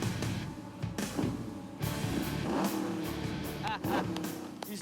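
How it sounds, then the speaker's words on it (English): A 1972 Camaro race car engine revs in loud bursts close by, with voices talking over parts of it. "It's a 1972 Camaro. Sounds pretty mean."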